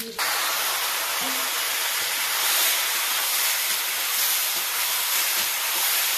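Small desi fish dropped into hot oil in an outdoor village kitchen set off a loud, steady broadband sizzle that starts abruptly and stays close and even throughout.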